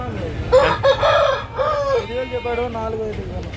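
A long-tailed rooster crows loudly nearby at an outdoor poultry market in Pileru, India, one long drawn-out call, with a person's voice faintly underneath.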